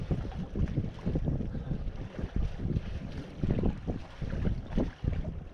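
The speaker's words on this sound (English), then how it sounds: "either the wind is dying down right now" Steady wind rushing and buffeting aboard a sailboat on a solo voyage, a broad continuous roar with gusty swells and no voices.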